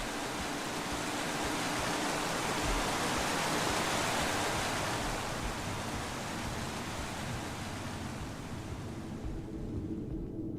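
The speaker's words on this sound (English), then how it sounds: "I first met Ruben near a waterfall like this." A waterfall in the Minecraft: Story Mode video game roars as a steady, broad rushing wash of water, loud and unbroken, fading slightly toward the end.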